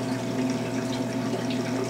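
Water driven by a circulation pump inside a 75-gallon reef aquarium makes a steady, even wash of flowing water over a low constant hum, unbroken and alone.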